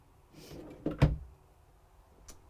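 Drawers in a Jayco Grayhawk 31FK camper sliding open and shut with a soft rumbling glide and a firmer wooden thump as one closes, fairly quiet and close, with a faint knock a moment later.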